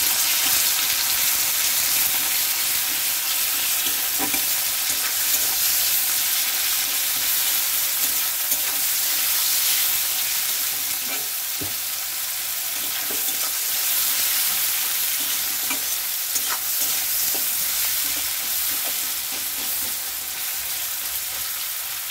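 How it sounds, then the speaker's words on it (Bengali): Chopped onion and salt fry loudly in oil, a dense, constant close sizzle lasting throughout, with occasional faint stirring knocks and no voices. "ওই একই তেলে দিয়ে দেবো পেঁয়াজ কুচি, আর দিয়ে দেবো স্বাদ মতো লবণ। ভালো করে ভাজা ভাজা করে নেব।"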